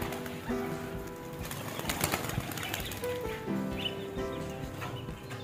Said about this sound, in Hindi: तो सबसे पहले आज कबूतर खोलते हैं,